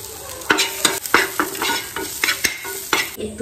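Potatoes with chopped onion and salt sizzle in a hot pan while a utensil scrapes and stirs them in quick, uneven strokes, close and fairly loud with no talk.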